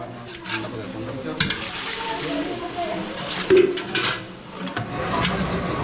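Mixed vegetables sizzle and fry in a pan at a friends' get-together, a soft steady hiss running under people chatting nearby.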